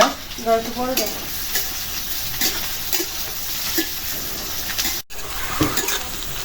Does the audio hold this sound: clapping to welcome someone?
no